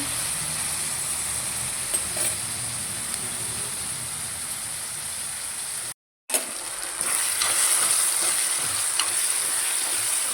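Three tomatoes sizzle in a pan for a tomato and chukka kura curry, a steady close hiss of frying that drops out briefly midway before resuming slightly louder.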